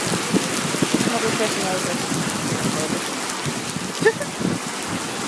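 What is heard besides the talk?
rain falling outdoors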